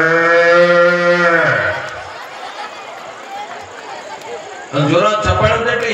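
A comedian on stage imitates a cow mooing, a long drawn-out low moo that fades into a wash of crowd noise and laughter before a second vocal moo cuts in.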